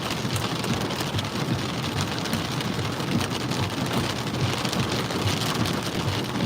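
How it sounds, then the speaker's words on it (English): Heavy rain during a Saskatchewan storm after nickel-sized hail, a loud, dense, continuous downpour drumming on a surface with no let-up. "Right now I'm getting hit with some pretty heavy rain though"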